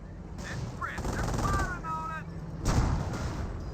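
In a Company of Heroes battle, US Rangers fire three bazookas amid rapid machine-gun and rifle fire, with a sharp explosive burst late on, all close and layered over a busy battlefield din.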